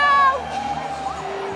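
Omaha Heart fans cheer as a crowd during a Legends Football League game, a broad, steady roar with a brief louder whoop near the start.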